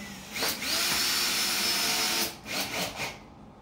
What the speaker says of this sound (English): Sorry for the drilling sound.